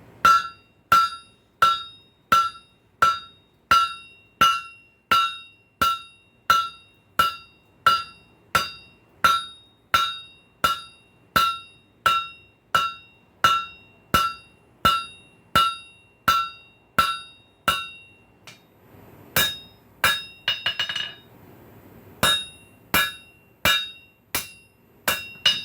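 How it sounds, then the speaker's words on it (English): A hammer strikes a hot spike in a steady, loud, evenly spaced run of ringing metallic blows, about thirty in all, close up, with a brief pause and a few quick blows near the end. "Alright, got a good grip on it. Let's give it a few whacks. Let's hit it hard."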